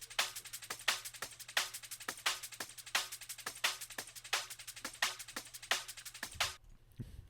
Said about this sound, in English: So these two are the chorus layers, which I'll play for you now